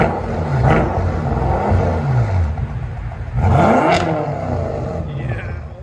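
Car engine revving in sport mode during a comparison of a Lexus IS F 5.0L, BMW M5 4.4L and Chevy SS 6.2L, two loud rising revs with sweeping pitch, recorded close with a deep exhaust rumble between them.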